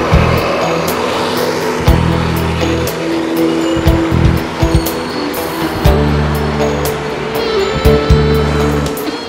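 Traffic on a main city road in Brazil with central bus-only lanes, passing engines rumbling and swelling as vehicles go by, steady and fairly loud with no talk.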